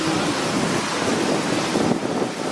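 Steady roaring cold wind buffeting the microphone on a cherry blossom street in Shibuya, Japan, a dense rushing noise that swells slightly near the end, with no voices.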